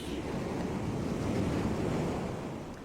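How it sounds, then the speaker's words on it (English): Sea waves rolling against a shore in a radio drama adaptation of Rebecca, a steady, close wash of surf with a wind-like hiss, alone with no voices. "Listen to the sea."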